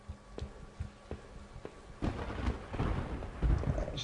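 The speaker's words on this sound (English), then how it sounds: "There's thunder." Thunder rumbles through a stormy scene in the video game Home, outside a small store; low rolling booms swell in the second half over steady rain-like hiss.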